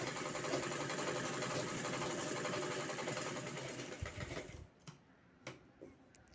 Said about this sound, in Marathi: मी त्याच्यावर शिलाई घेते आहे